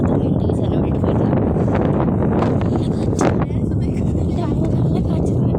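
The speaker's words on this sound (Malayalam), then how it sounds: "നല്ല കാറ്റ്" Strong wind buffets the microphone at a hilltop temple, a steady loud roar with gusty swells throughout and no pause.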